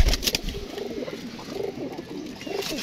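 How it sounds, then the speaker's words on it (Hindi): A one-eyed pigeon coos nearby in several soft, repeated low calls, with a brief rustle at the start. "एक अख वाला कबूतर ऐ बैठा जी"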